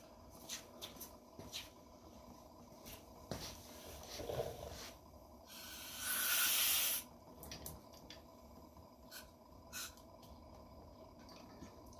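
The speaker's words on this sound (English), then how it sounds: "Throw a lot more brake cleaner down there." Brake cleaner sprays in one short, loud hissing burst into the fork of a 1996 Honda Magna during a fork seal replacement, amid quiet handling clicks and rubbing in a workshop.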